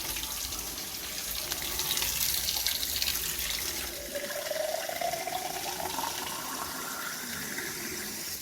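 Water poured from a tin into a pot for cooking instant noodles with vegetables and herbs, a continuous splashing pour that shifts in tone partway through as the pot fills.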